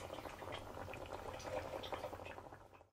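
Beef ribs stew in a covered pot, giving a soft, continuous bubbling simmer that stays faint and even before stopping abruptly.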